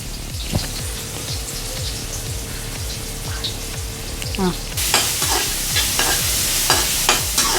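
Onions frying in ghee for prawn biryani give a steady close sizzle with a regular clack of a spoon stirring the pan, turning louder and brighter partway through.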